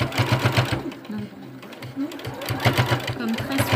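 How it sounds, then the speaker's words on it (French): A domestic sewing machine stitching down bias binding on a swimsuit runs in steady, loud bursts with brief pauses, while someone talks over it close by. "Et là, on va finir la piqûre de notre biais"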